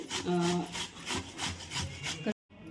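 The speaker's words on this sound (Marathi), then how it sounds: "इथं घेतला आहे एक बटाटा आणि मोठ्या किसणीने" A potato is rubbed on a large grater in rhythmic strokes, a close scraping rasp repeating about six times before stopping.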